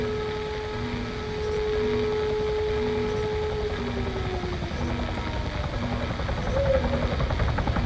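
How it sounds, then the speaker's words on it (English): A helicopter in the Arma 3 video game, a steady low rotor thrum and buzzing hum holding throughout, with a tone that slowly slides downward midway, fairly quiet and unaccompanied by talk. "There's a helo."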